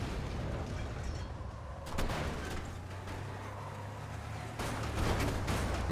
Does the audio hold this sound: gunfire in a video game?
yes